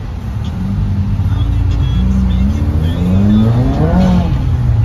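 A 2015 Subaru WRX engine pulls through the gears, its droning note rising and falling across repeated shifts, loud and close as if heard from inside the car.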